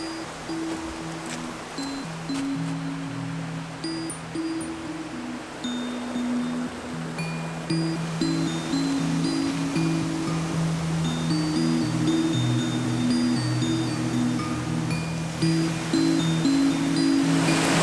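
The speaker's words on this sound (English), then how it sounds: "it's this beautiful little side waterfall that kind of falls and tumbles into the main sort of river channel" A small side waterfall tumbles into a main river channel in autumn, giving a steady, close rush of falling water that holds at an even level throughout with no voices.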